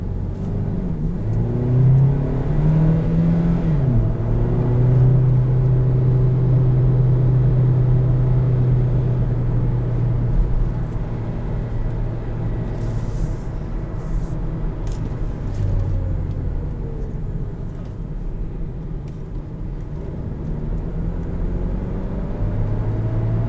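A 2020 Kia Niro EX plug-in hybrid drives in sport mode, its engine and road noise forming a steady, close rumble with a rising drone near the start that holds for several seconds, with no talk over it.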